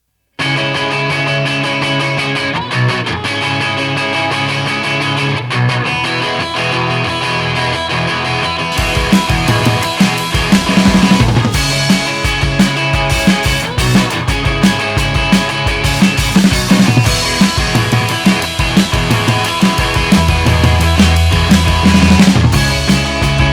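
Electric guitars play with a slapback echo and roomy reverb, a thinner passage giving way to a fuller, louder band section with drums.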